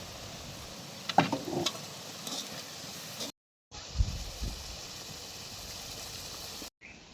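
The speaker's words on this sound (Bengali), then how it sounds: "এখন হচ্ছে মশলাটা আমরা কষাইতেছি।" Spice paste of turmeric and chili sizzles softly in a pan for a North Bengal potato dish, a steady frying hiss with occasional stirring scrapes, briefly cut by two short silent gaps.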